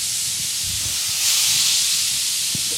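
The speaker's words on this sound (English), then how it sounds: "Oh, listen to that sizzle." A steady, broad hiss of tomatoes sizzling in a hot pan, close and continuous, swelling slightly midway with faint clinks underneath.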